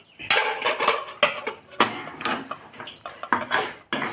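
Fried wheat-flour jaggery gavvalu being tipped into a metal bowl, a busy run of close, sharp clinks and rattles of the sweets and utensils, repeated in irregular bursts without speech.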